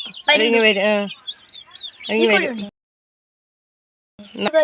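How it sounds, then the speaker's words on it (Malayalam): A hen gives drawn-out, warbling clucks in two close, loud bursts separated by a pause, with another call starting at the end. "ഇത് നമ്മളോട് ഭയങ്കര സ്നേഹമുള്ള കോഴിയാ"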